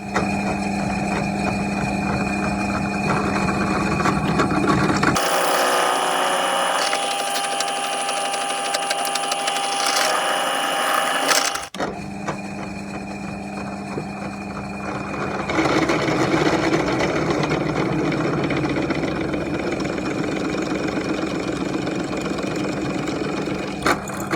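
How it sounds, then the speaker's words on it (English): A power drill whirs steadily for several seconds, its motor loud and close, then stops as background hum continues. "If I plug the drill in."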